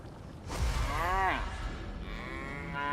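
Cows in Divinity Original Sin 2 moo loudly and close, a long drawn bellow followed by fainter overlapping lows against a busy game background.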